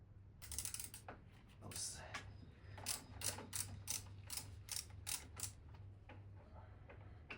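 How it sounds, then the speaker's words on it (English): A ratchet fitted with a 1/4 inch imperial socket clicks in quick, fairly regular bursts while removing a fork leg from a new Harley-Davidson Street Glide CVO. The clicks are close but faint, with no one speaking. "So now we will remove the first fork leg, 1/4 inch imperial socket."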